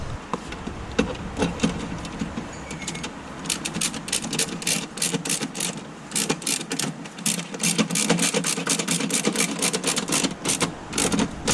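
A ratchet tightens a bolt on an oil catch can fitted to an Isuzu Dmax, giving a run of rapid, close clicking strokes that grows denser and steadier in the second half.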